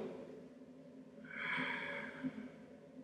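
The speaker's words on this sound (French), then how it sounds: "La respiration." A single long, breathy exhale from a person holding the extended side angle yoga pose (Parsvakonasana), soft and close, rising and then fading over about a second.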